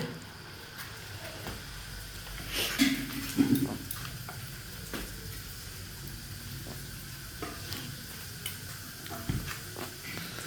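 Luchi frying in hot oil in an iron wok, a low steady sizzle running throughout, with a few louder bubbling bursts and clatters of utensils in a home kitchen.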